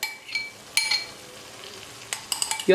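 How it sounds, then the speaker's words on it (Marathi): Cleaned small karandi shrimp drop into onion masala frying in a pan, followed by a steady hiss of sizzling oil, with sharp metallic clinks of a spoon stirring against the pan, briefly at first and then in a quick run near the end. "यात आता आपण जी स्वच्छ साफ करून मग धुवून घेतलेली करंदी होती ती टाकून घ्यायची आहे"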